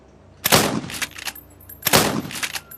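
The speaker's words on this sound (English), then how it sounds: "this is actually an easy shotgun to use" Two loud shotgun blasts from the video game Beyond Sandbox, each a sharp broadband crack with a short decaying tail, spaced about a second and a half apart, with quieter clicks and handling noise between them.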